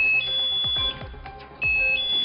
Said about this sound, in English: you hear that alarm, and that means something's moved